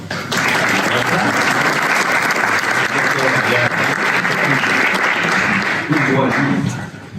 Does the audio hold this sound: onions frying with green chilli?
no